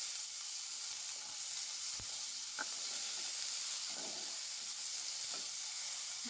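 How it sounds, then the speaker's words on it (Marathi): Tomatoes lightly roasting in a pan for a spicy Konkani-style fish curry give a soft, steady sizzle at low level, with a few faint clicks and stirring scrapes and no talking. "टोमॅटो पण हलकसं भाजून घेऊया."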